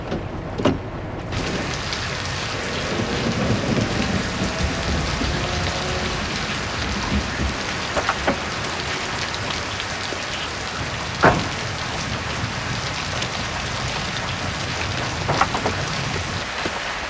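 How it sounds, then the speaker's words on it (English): Heavy rain drums down in a constant roar, with a few sharper drips and knocks popping out close by. "I can't remember when we last had rain like this."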